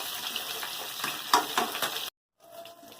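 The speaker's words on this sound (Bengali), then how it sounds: "পটলটাকে ভেজে নেব আগে, এরকম করে নেড়ে নেড়ে গ্যাস কমিয়ে অল্প আঁচে।" Pointed gourd (potol) frying on a low flame, with a steady soft sizzle and intermittent scrapes and clicks from stirring, close up. The sound cuts out briefly near the end, then the quieter sizzle returns.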